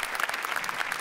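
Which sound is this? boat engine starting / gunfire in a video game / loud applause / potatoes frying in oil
loud applause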